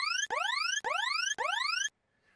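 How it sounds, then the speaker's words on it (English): A synthetic alarm sound effect: three identical rising electronic sweeps, each about half a second long, loud and close with sharp cutoffs, followed by a brief near-silent tail. "If we do, you'll hear this alarm."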